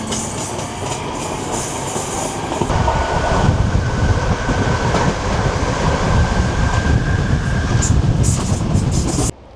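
A Northern Class 323 electric multiple unit runs at speed with a loud, steady rumble and a rising electric motor whine. There is faint rhythmic clatter from the rails, and the sound is heard from on board with no talking.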